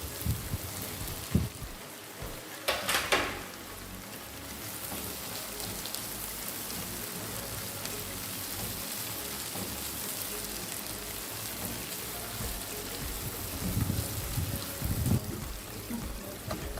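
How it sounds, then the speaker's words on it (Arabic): Chopped tomato sautés with onion and pepper in a pan, a soft, even crackling sizzle at low volume with a few faint clatters, no talking. "هديها تشويحة مع البصل والفلفل"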